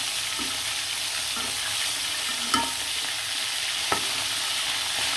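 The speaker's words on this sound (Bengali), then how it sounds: "কি সুন্দর লাল লাল করে মাংসটা ভেজে ফেললাম" Chicken meat frying in oil sizzles steadily and loudly, with occasional clacks of a spatula stirring the pan and no voices.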